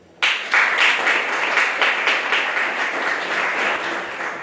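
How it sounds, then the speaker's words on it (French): Applause from the audience at an evening book presentation in Gosier starts abruptly and stays steady, with a dense wash of clapping that holds strong and tapers slightly near the end. "Vos applaudissements."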